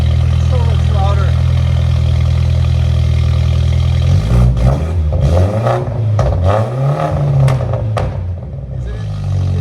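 A 2018 BMW 530i with a 2.0L turbo engine and muffler delete idles with a steady low drone, then revs up in several loud, rising and falling bursts close by.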